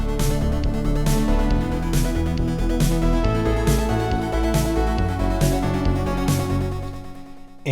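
A synthpop chorus arpeggio pattern played on synthesizer: dense, full layered music with a steady pulsing beat throughout, loud and close, with no talking.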